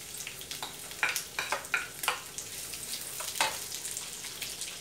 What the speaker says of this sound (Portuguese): Deixa eu dar uma fritadinha.